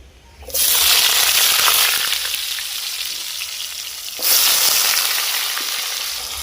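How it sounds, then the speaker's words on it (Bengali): Potato pieces hitting hot oil for a soybean curry burst into a loud, close sizzle that slowly settles, then a second surge of crackling hiss swells up partway through. "সোয়াবিনটার জন্য আমি আলুটা ভালো করে তেলে কষে নেবো"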